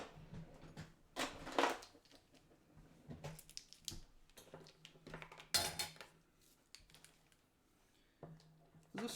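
Small utensil clinking and scraping against a little glass bowl while mixing salt into a spice mix in a home kitchen, irregular close taps and stirring scrapes in short bursts with pauses.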